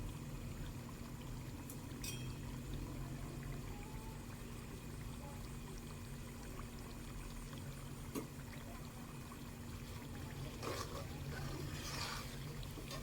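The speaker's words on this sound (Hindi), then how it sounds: "देखें इसके अंदर मैं पानी ऐड करूंगी दरमियाने" Water is poured into flour to make a medium-thick slurry for chicken nihari, a faint, steady trickle and splash lasting over ten seconds in a quiet kitchen, with no speech.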